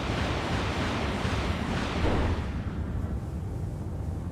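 A tank cannon firing in the video game Space Engineers, heard as a loud, sustained roaring blast that booms near two seconds in, then tails off into a steady rumble.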